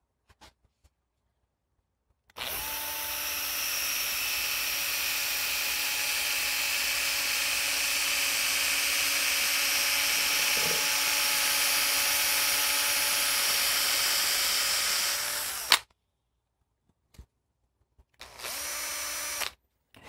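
Power drill spinning a length of wire to straighten it, a steady high-pitched whine held for about thirteen seconds before cutting off, followed by a shorter burst, with no talk.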